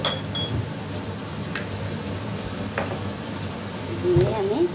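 Black and white mustard seeds sizzling in hot oil in a pan, giving a steady, soft crackling hiss that runs throughout, with a voice speaking over it.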